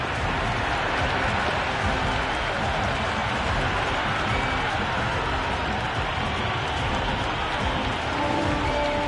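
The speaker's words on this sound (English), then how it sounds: "The crowd are loving every minute of this match." Stadium crowd in a Cricket 26 India vs New Zealand T20 match roars steadily after a six, forming a dense, continuous wash of cheering and applause that stays loud throughout.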